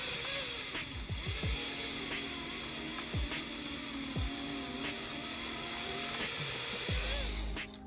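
A power drill fitted with a 4.5mm bit whines steadily while drilling out a plug in an RB30DET engine block, a continuous close drone with several brief dips and surges in pitch as the bit bites.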